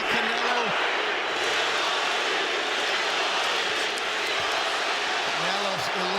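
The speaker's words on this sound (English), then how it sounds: "You hear the crowd for Triple G, surrounded by Canelo." Boxing arena crowd roaring for Gennady Golovkin at the Canelo vs. GGG fight, a steady loud wash of cheering with a voice speaking over it.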